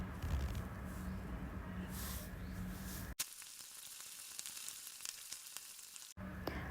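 Onions with salt being stirred in a frying pan for Kerala-style egg roast, a continuous faint sizzle with light scraping, broken by two abrupt cuts, no voices.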